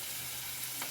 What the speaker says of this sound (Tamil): வெங்காயம் நல்லா வதங்கிடுச்சு பாருங்க